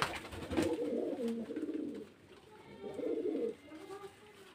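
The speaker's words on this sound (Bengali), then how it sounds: "দেখতে পাচ্ছেন পায়রা সব গিরিবাজ লাইনের পায়রা, মুর্শিদাবাদের পিওর দেশি গিরিবাজ" Pure local Giribaz pigeons from Murshidabad, kept for sale, give soft low rolling coos in two drawn-out phrases, close by and fairly quiet, with a brief knock near the start.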